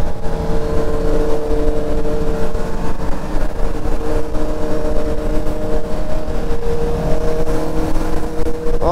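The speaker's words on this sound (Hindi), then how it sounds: "भाई आज मेरा पूरे ग्रुप में खाली सिक्स आर ही आवाज कर रही है, भले स्लिप ऑन लगा हुआ है।" A Kawasaki ZX-6R motorcycle engine fitted with a slip-on exhaust drones loud and close at steady revs throughout while riding on a highway, with a continuous tonal hum and wind rumble and no voices.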